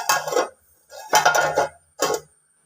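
A clay pot of cleaned, cut fish curry is set down on a village stove, making three distinct hollow clunks and scrapes with short pauses between them, close and clear with no talking.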